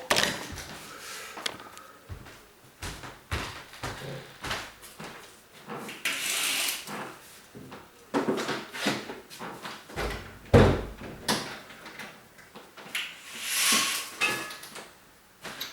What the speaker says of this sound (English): but let's close the door.